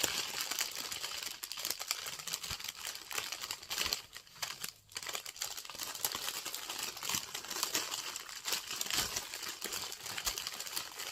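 Crinkling and rustling of gift wrapping paper, close and continuous, with a brief pause partway through before the crackling resumes.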